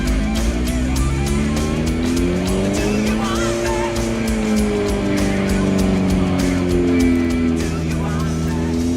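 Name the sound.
Suzuki GSXR motorcycle engine at 100% throttle on dyno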